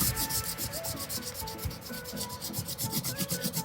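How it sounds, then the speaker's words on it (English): Paper is rubbed firmly by hand over an inked relief printing block, producing a close, continuous scraping swish that pulses in quick regular back-and-forth strokes throughout. "applying quite a bit of pressure, you're rubbing"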